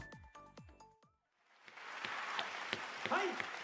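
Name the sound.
clapping audience in Blue Archive video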